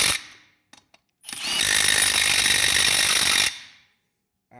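A Milwaukee M18 Fuel 3/8-inch compact impact wrench, set to mode 3, fires a short tap, then hammers in a loud continuous rattling burst for about two seconds before stopping, close up, with no talking.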